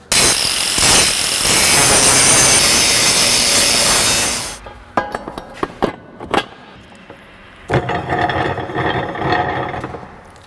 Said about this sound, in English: Grinding is loud.